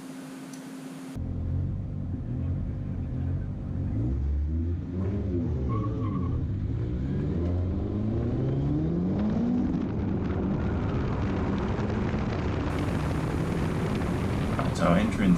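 Onboard at a drift competition battle at Winton in 2021: a drift car's engine revs hard and rises in pitch while the tyres skid in long, continuous squeals, loud and close throughout.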